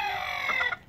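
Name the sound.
chickens clucking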